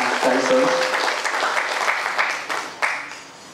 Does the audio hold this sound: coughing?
no